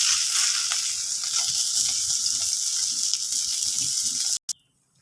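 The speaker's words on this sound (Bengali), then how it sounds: "মাছটা ভাজি হয়ে গেছে, নামিয়ে আনি।" Fish sizzles steadily in hot oil in a pan, a dense close frying hiss that carries on evenly before cutting off abruptly near the end, leaving near silence.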